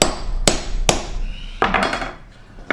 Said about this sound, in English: Once we've punched these holes in here, like right there